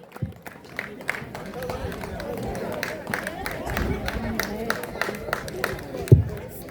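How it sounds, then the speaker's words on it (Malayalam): An audience at a stage event applauds as trophy winners are called up: a steady, moderate patter of clapping from a crowd, with an announcer's voice talking over it throughout. "നമുക്ക് എല്ലാവരും ദയവായി കൈയടിക്കുക."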